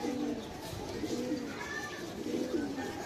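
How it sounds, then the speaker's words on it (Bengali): Punky-line pigeons cooing in a loft, several soft low rolling coos repeating at an even pace, close but quiet over faint background noise. "এই পেয়ার দুইটা কবুতর হচ্ছে পাঙ্কি লাইনের কবুতর"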